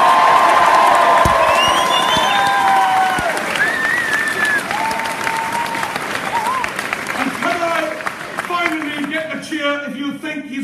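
A big political rally crowd in Leeds cheers and applauds for Jeremy Corbyn. Loud sustained clapping mixes with whoops and shouts, then eases slightly toward the end, with voices calling out over it.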